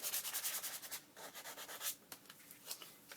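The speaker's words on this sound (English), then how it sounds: "I'm just going to give it a little buffing with some sandpaper," Sandpaper rubbed across shiny junk-mail paper in quick back-and-forth strokes, a soft, close, rhythmic scratchy rasp, fairly quiet, with no talking.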